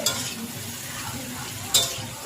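Masala spices sizzling in a pan while being stirred during vegetarian cooking, a steady frying hiss with two sharp scraping clinks of the spoon against the pan.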